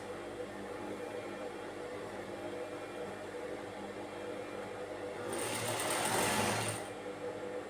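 A sewing machine stitches a princess-style nighty in a steady, slow mechanical whir, picking up into a louder, faster burst of stitching near the end, with no voices.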